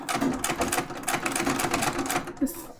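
A sewing machine runs steadily, stitching through quilt fabric in a continuous, fast rhythmic whirr, close and fairly loud.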